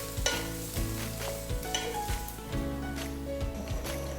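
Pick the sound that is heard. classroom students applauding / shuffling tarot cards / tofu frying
tofu frying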